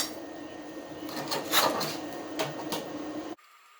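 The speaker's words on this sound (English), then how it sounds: "Tin stip's an invaluable tool when doing this" Tin snips cut through rusty sheet metal on the body of a 1966 Dodge Dart GT barn find, giving a few seconds of close, scraping, crunching cuts that stop abruptly.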